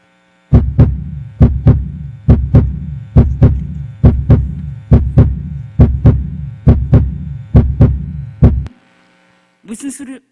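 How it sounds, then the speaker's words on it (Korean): A recorded heartbeat plays loudly through speakers, about fourteen deep, even lub-dub thumps in a steady rhythm, then a short silence before a voice begins. "예수님의 심장 소리입니다"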